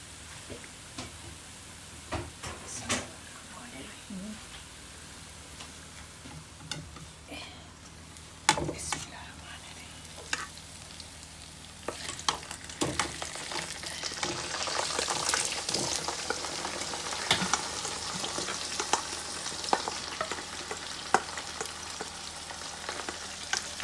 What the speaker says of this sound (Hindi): अब इसमें हम डालते हैं कीमा